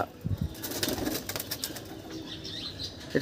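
A white Andhra pigeon flaps its wings in a short, close burst of rapid fluttering beats, with faint background ambience and no talk.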